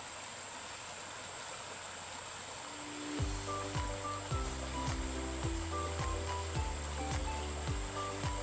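Water flows steadily through small natural pools in a stream, a continuous broadband rush and splash heard up close, later joined by a rhythmic low pulsing pattern laid over the water noise.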